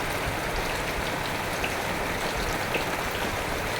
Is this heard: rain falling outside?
yes